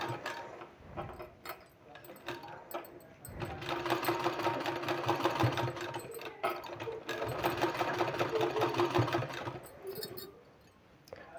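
A sewing machine stitches a sleeve in bursts, running steadily for several seconds at a time with short pauses and mechanical clicks between runs, close and fairly quiet.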